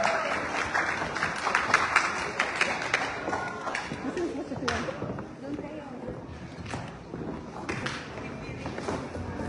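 Guests at a 50th birthday celebration applauding performers after a waltz, moderate clapping mixed with cheering and chatter, with voices talking throughout.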